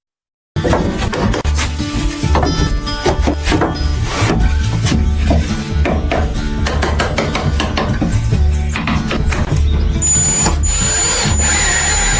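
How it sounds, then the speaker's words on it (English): A power drill whirs in repeated bursts close by, driving screws to fix socket brackets to a wall inside a rustic forest house, with clattering and thumps between runs and a high whine near the end. "using a power drill, he secures socket brackets to the wall"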